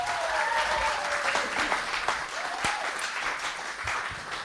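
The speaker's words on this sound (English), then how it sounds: "One more round of applause for Steph Fraser, please" An audience at a live bar show applauds Steph Fraser, sustained clapping heard from a middle distance with a few faint cheering voices over it.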